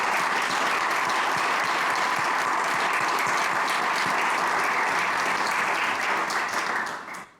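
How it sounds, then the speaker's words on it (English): An audience at the Malta Society of Arts Gold Medal 2025 award ceremony applauds steadily and loudly for several seconds, the sustained clapping fading out at the very end. "Let's give a round of applause to mark the start"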